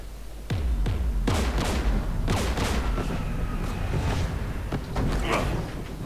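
Heavy gunfire from Geth anti-aircraft guns beside a jamming tower in Mass Effect 3, a series of loud booming shots with sharp attacks and long decaying rumbles, spaced irregularly over a constant din of battle.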